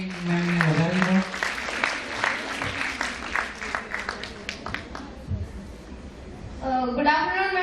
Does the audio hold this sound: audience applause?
yes